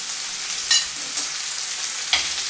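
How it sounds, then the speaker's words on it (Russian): Chopped onion frying in a pan for a pepper dressing, a steady broadband sizzle with a few louder crackling bursts as it is stirred, close and without voices. "Поджариваем до золотистого цвета."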